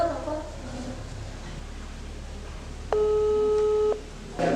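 Busy or unanswered tone from a phone call placed to someone who is missing, one steady electronic tone lasting about a second after a stretch of quiet room noise, with a brief bit of it returning at the end.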